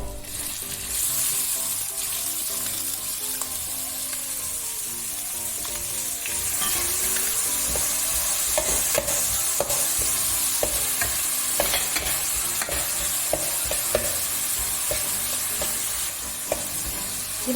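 Chopped garlic sautés in a pan with a steady bright sizzle while a spoon stirs and scrapes in frequent clicks and taps, close and continuous with no talking.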